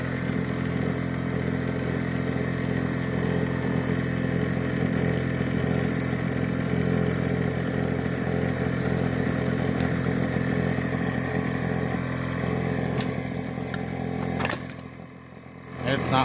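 A 12V air ride compressor runs continuously with a steady motorized drone and rattle, holding level before cutting down near the end, while a person speaks nearby.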